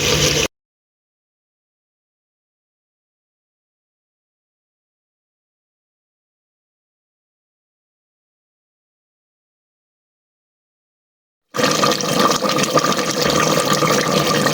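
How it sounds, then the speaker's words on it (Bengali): Water poured into a pot of simmering duck curry gives a brief, close splashing gush near the end, after a long stretch of silence. "এখন আরও ভালোভাবে সেদ্ধ হওয়ার জন্য আমি অল্প পরিমাণে পানি দিয়ে দিব"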